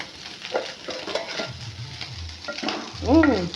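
Prawn gongura curry with green chillies frying in a pan, a soft steady sizzle with occasional stirring scrapes, close and moderately loud, ending in a louder burst of frying.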